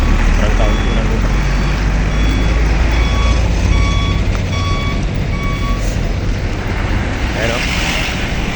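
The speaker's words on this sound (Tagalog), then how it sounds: "ang daming bus" Buses passing on a road, with a steady run of high reversing beeps over loud rumbling engine and wind noise that persists throughout.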